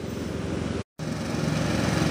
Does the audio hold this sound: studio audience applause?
no